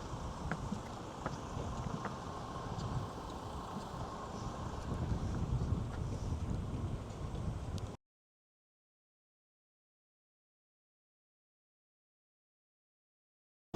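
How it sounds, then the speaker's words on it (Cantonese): Strong wind gusting across an elevated spot beside a short Shinkansen line, buffeting the microphone with a steady close rumble for about eight seconds before cutting to silence. "上到嚟仲好大風添。"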